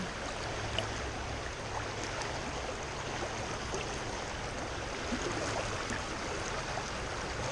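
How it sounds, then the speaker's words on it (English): Fast water rushes steadily in a fly-fishing creek, a dense, even hiss heard at close range with no voices over it. "Fast, fast water."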